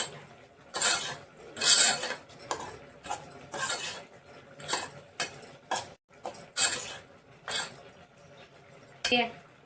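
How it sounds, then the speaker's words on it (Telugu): Spoon scraping and clinking through pepper tamarind rice in a dish, a run of irregular close metallic scrapes and taps, some sharper bursts, with no talk over them. "పూర్తి ఒకసారి ఇట్లా మంచిగా కలిపేసుకోవాలి"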